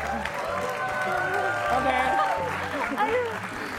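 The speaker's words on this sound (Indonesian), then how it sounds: "tepuk tangan untuk Ayu Dewi." A studio audience bursts into brief applause and scattered cheering, steady and moderately loud, with voices talking over the clapping.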